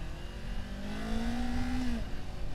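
A car engine revs up sharply as the throttle is pressed, a single rising surge that holds briefly then drops off, heard from inside the car with steady road noise beneath.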